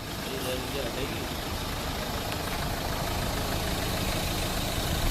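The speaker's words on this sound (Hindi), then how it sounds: "तो अभी ये कार स्टार्ट है" Mahindra XUV engine idling at a steady, even rumble after being started, a continuous mid-low drone that holds level throughout with a voice speaking over it.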